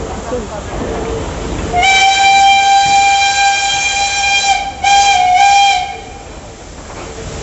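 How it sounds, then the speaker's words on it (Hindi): A steam locomotive on a Pakistan Railway steam safari train from Lahore to Kartarpur sounds a long, loud, steady steam whistle for about four seconds, briefly broken once, over a rumbling background with faint voices. "व्यूअर्स आप देख रहे हैं स्टीम लोकोमोटिव स्लो स्लो अपनी ट्रेन की तरफ बढ़ रहा है"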